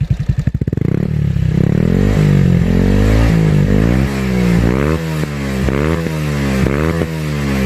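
A Thai motorcycle exhaust pipe with a cut-open muffler revs loudly up and down in repeated surges after a sputtering start, a deep throaty roar close by with no voices.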